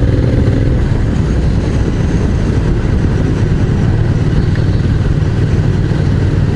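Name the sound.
motorcycle engine running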